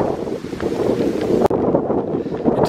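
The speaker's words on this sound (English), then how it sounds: "It has got considerably windier than it was." Wind blowing hard outdoors in English woodland in May, a steady loud rushing gust buffeting the microphone, with no speech.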